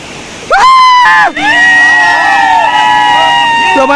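The Usgaon waterfall rushes in the background while people nearby shout and whoop loudly, voices rising and falling over the steady water.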